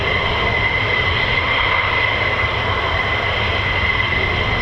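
Steady roar of an F-15 or F-35 fighter jet engine at RAF Lakenheath, a loud broadband rush with a sustained high whine as the exhaust nozzles actuate, with no voices.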